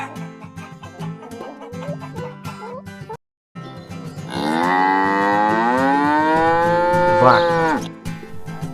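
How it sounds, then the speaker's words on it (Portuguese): A cow gives one long, loud, close moo that rises and then bends downward over about three seconds. Before it, chickens cluck over music, broken by a brief gap of silence. "Vaca."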